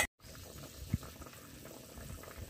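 Pabda fish curry broth simmering in a pan in a Bengali village kitchen, a faint steady bubbling hiss with one small soft pop partway through, heard close and alone.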